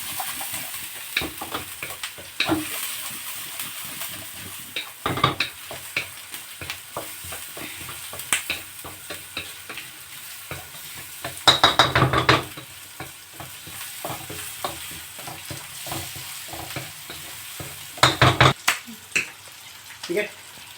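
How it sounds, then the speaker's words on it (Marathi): Chopped onion frying in butter in a pan over a high gas flame, a steady sizzle under spoken cooking talk, with sharper clicks and louder bursts of stirring near the middle and end. "गॅस मोठा आणि कांदा. इथं कांदा जास्त शिजवायचा नाही, जस्ट इथं फ्राय करायचं."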